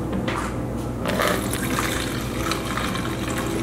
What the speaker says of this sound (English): So the first step is we're going to add 4 cups of water.